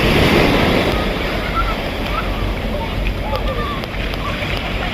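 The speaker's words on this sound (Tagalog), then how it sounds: "Napakalakas talaga ang alon." Strong ocean surf pounds a beach on Boracay island, a loud continuous roar of breaking waves with wind buffeting the microphone throughout.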